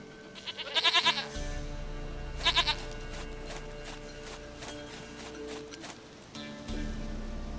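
Goat bleats in The Witcher 3: Wild Hunt, two bursts of quavering bleating close together early on and another shortly after, over a steady low ambient game hum with faint hoof-like clatter.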